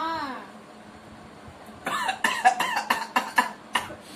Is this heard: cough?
yes